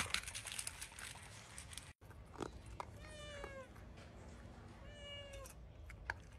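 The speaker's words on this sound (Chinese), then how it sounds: "旁边这小猫也是最近到家的，不是我养的" A cat meows twice, clear and close, each a short drawn-out cry, with crinkling and rustling before and between them.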